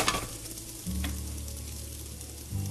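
Potato pieces browning in a frying pan give a steady close sizzle, with a brief clatter near the start and a louder surge of frying toward the end.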